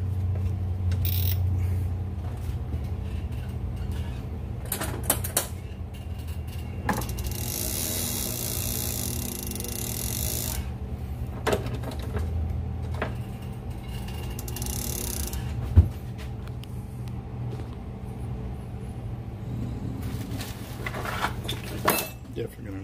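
A Shimano 50 LSRA fishing reel spooling 12-strand 100-pound solid braided line makes quiet, intermittent mechanical clicking and ratcheting from its gears, with brief louder handling noises scattered throughout.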